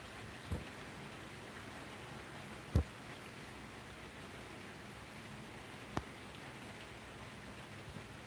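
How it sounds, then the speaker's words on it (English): Rain falls steadily in a continuous, even hiss, fairly soft and distant, broken by a few brief, sharp knocks. "it's raining right now here pretty good"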